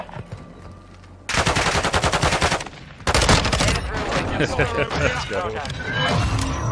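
Kastov 762 rifle firing in Warzone 2.0, loud rapid automatic bursts in two long runs, with players talking between and under the shots.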